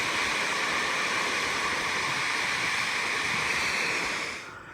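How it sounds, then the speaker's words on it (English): Water at Apsley Falls in northern New South Wales pours over the top and side of the rock face, a steady broadband roar that holds even for several seconds, then fades away toward the end. "So all the water comes flushing over that top and that side."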